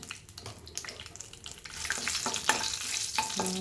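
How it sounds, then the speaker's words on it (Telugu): Curry leaves crackle and spit in hot tempering oil, the sizzle swelling louder partway through, with light stirring sounds and no voices. "కరివేపాకు యాడ్ చేస్తున్నాను చూసారా కరివేపాకు వేగిపోయింది"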